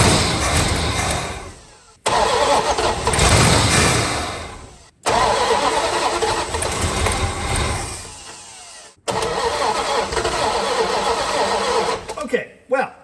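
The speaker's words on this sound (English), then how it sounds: "that is a running engine" A 1970 Dodge Dart Swinger engine with an unhappy carburetor cranks and catches, then runs roughly and loudly in three long bursts, each cutting out briefly before restarting, with a final stumbling sputter.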